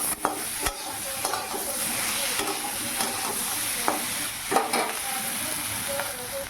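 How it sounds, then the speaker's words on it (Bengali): Potatoes being stirred and sautéed with chili, salt and turmeric in a pan, a steady close sizzle broken by scraping knocks of the spoon against the pan. "এখন লঙ্কা, লবণ, হলুদ দিয়ে ভালো করে আলুটা কষিয়ে তারপরে জল দেবো।"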